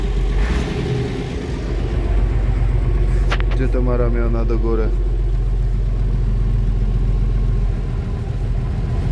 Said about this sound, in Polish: Silnik chodzi.